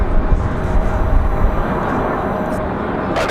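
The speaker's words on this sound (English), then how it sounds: "So this A321 coming back for their second attempt" An Airbus A321 airliner on a second approach to land at Raleigh-Durham airport on a windy day gives a loud, steady broadband jet roar mixed with wind rumble throughout.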